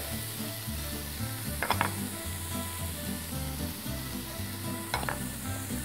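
Onion sizzling in a pan as spices go in, a steady frying hiss throughout with a couple of brief scraping stirs, no talking.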